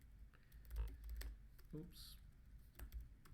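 Computer keyboard being typed on in short, scattered clicking keystrokes, quiet and close, with a person talking briefly during the pauses.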